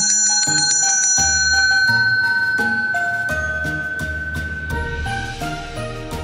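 Bright, ringing Christmas bells chime in a lively melodic sequence, clear and close, with sustained shimmering tones layered over one another.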